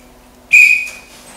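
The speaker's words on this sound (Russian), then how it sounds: "Приготовились, по свисточку начинаем." A referee's whistle signals the start of a children's Kyokushin karate squat contest, one sharp, shrill blast that rings briefly and fades in a quiet room.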